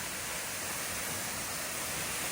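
Mae Ramoeng waterfall in the rainy season gives off a loud, continuous broadband roar of rushing water, close and unbroken, with no voices.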